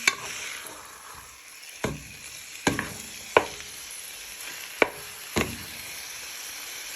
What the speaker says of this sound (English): So we're just frying our chicken till it goes nice and brown on each side.